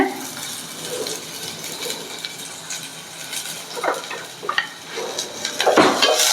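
Onions frying in a pan for Mandya-style egg curry, a moderate sizzle with intermittent stirring clatter and scraping, growing busier toward the end, no talk.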